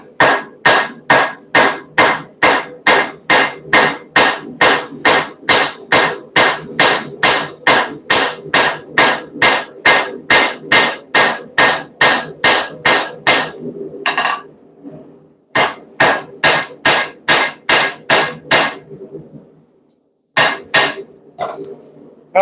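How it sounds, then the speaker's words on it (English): A hammer pounding a hot forged metal piece, loud close ringing blows in a fast steady rhythm, about two per second, with short pauses between runs of strikes and no talk. "I'm trying to move and rotate the piece as I'm hammering instead of moving the hammer."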